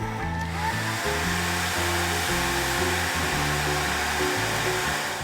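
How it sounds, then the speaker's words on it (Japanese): A hair dryer drying watercolor paint runs continuously at close range, its motor humming loudly and steadily with a slight wavering pitch. "これもドライヤーで乾かします"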